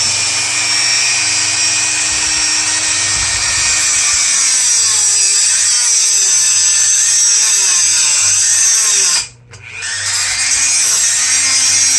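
A power tool whines loudly and continuously as it cuts a 1/24 scale slot car chassis, its pitch wavering under load, then briefly stops and starts up again near the end.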